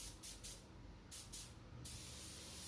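Spray gun spraying clear coat paint, with short hissing bursts in a quick series, then a longer continuous hiss, close and fairly quiet.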